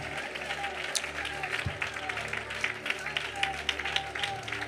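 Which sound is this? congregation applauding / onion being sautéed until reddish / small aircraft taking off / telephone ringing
congregation applauding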